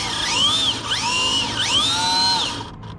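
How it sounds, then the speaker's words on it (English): Maclan-powered 2WD RC Slash car spinning its tires in place to warm them, a high electric motor whine sweeping up and down in three rising and falling bursts before cutting off. "Let me heat it up a little bit real quick. Get the tires warm."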